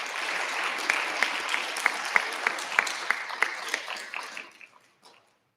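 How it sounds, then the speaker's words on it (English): Applause from a crowd at a regional science and engineering fair, steady clapping with a few sharper claps standing out, fading away to silence near the end. "a round of applause for the teachers, the mentors, and the parents"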